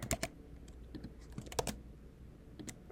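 Keys on a computer keyboard are tapped in quick, irregular clusters of faint, close clicks.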